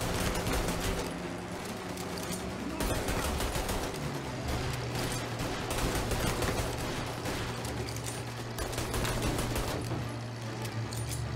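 Dense, sustained gunfire rattles on during a shootout in Mafia Definitive Edition, with rapid overlapping shots forming a near-continuous fusillade under a steady engine-like drone, no speech.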